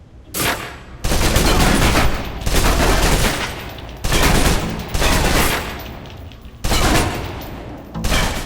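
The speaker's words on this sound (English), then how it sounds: "Now, let's move on to the submachine gun. Now let's empty the clip." A submachine gun fires repeated full-auto bursts in the video game Alpha Protocol during a training mission, loud close rattling volleys separated by short pauses, with no talking.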